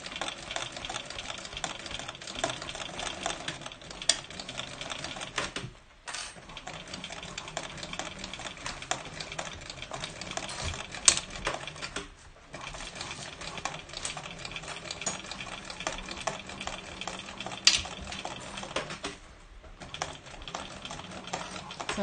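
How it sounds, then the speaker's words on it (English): A sewing machine stitches a bag in long, steady, rapid runs close up, with short pauses between the runs and no talking. "I'll transition you over so that you can actually see Debbie sewing."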